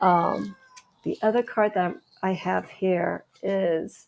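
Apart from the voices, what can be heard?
cat meowing in the background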